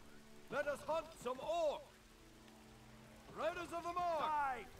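Steady rain falls in the real-time strategy game Battle for Middle-earth, a soft continuous hiss beneath voices that come and go over it.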